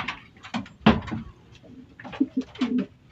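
Racing pigeons in a loft coo in low, soft bursts, with two or three clear calls rising over light handling noise before basketing.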